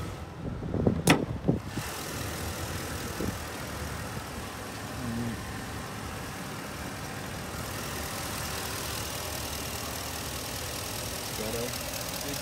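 A 2016 Ford F-350 Lariat with the 6.2L engine idles steadily and fairly quietly through the whole stretch, opening with a few brief knocks and clatter up close.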